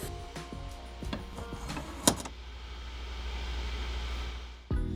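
A surface grinder cuts the scale off a steel blank with a steady, close mechanical whir and hiss, a few light knocks early on and a brief sharp crack near the middle, with no voices.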